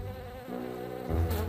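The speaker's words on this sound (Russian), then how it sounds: "тут пчелы начинают летать!" Bees in the Minecraft video game give off a soft, continuous buzzing drone that swells slightly louder near the end, heard alone and fairly faint.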